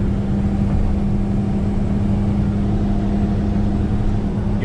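Duramax pickup truck on 38-inch Toyo M/T mud-terrain tires cruising at 65 mph on the highway, a loud, steady droning hum from inside the cab with no break or change in pitch.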